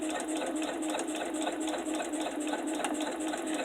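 A sewing machine runs steadily at close range, sewing the longest basting stitch, set at length 5.0, through fabric with interfacing for a zipper seam. The needle chatters rapidly and evenly for several seconds with no voices.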